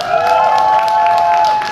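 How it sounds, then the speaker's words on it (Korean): Applause from a live indie band concert audience in front of a Daegu department store, steady and dense, with a sustained tone held underneath, alone for under two seconds. "큰 박수 한번 부탁드릴게요."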